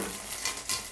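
Mustard seeds crackle and sizzle in hot oil, a brief, close burst of spitting pops over a steady frying hiss.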